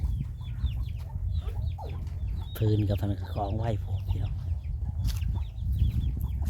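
Chickens around a rural Thai house cluck in short repeated bursts under steady background noise, while someone talks close by.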